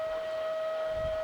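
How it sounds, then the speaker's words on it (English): Steady whine from the fuel pump of a 2000 Volvo Penta 5.7GS V8 marine inboard engine just after shutoff, a single constant tone held alone and fairly faint over a low background hum. "That's the fuel pump you hear."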